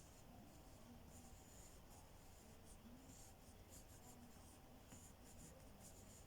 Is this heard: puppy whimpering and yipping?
no